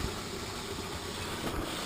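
A live steam Aster Berkshire model locomotive running under its own steam, giving a steady, close hiss with a low mechanical churn and faint rhythmic pulses, with no voices.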